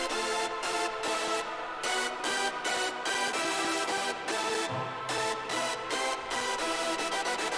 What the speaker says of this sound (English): chord layer and the